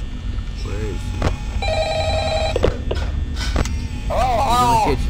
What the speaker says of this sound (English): Alright, so the phone's ringing.